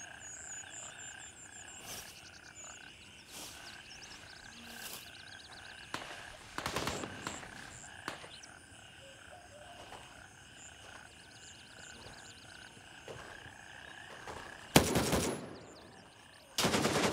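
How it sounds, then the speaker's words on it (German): Gunfire in the video game Gray Zone Warfare, scattered sharp shots and short bursts over a quiet jungle-like ambience of insects and frogs, some distant and one louder burst near the end. "Du weißt nicht, von wo du beschossen wirst?"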